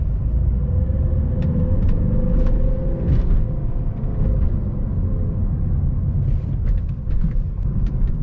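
Volvo XC60 engine revving hard while driving on the road, a steady loud droning rumble with rising pitch and continuous road noise throughout.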